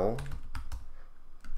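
Quick keystrokes on a computer keyboard while typing code, a few close, crisp taps spaced irregularly over a short stretch, with a brief voice at the start.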